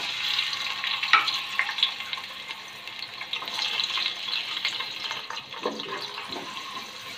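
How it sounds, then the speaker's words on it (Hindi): Onion frying in hot oil in a home kitchen, a steady bright sizzle with crackles and spatters, close and continuous with small pops. "ऑयल गर्म हो गया तो इसमें मैं प्याज डालूँगी एक"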